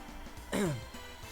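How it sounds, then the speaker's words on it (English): A single throat clearing from a video game character, a short loud rasp at close range with quiet game ambience around it and no speech. "I clear my throat to grab their attention"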